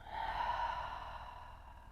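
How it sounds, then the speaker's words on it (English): One long, soft breath is let out through the mouth, a steady airy exhale that fades gently over about two seconds, close and quiet. "And through your mouth, exhale"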